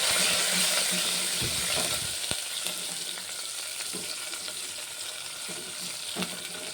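Chopped onion, green chillies and a little curry leaves frying together in a pan, a close steady sizzle with scattered stirring scrapes and a few sharp clicks, loudest at the start then settling to an even crackle.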